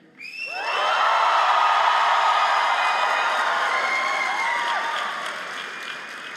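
Graduates at a convocation ceremony erupt in loud, sustained cheering, whooping and applause, swelling quickly and holding steady for several seconds before easing slightly.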